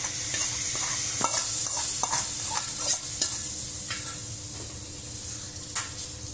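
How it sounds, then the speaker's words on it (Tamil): Hot tempering of mustard seeds, cinnamon, chilli and curry leaves in coconut oil poured into a buttermilk curry, a close steady sizzle with stirring clatter and sharp crackling bursts. "கடுகு பட்டை மிளகா கருவேப்பிலை தேங்காய் எண்ணெய் ஊற்றி தாளிச்சிருக்கேன் அதை ஊற்றிடுறோம்"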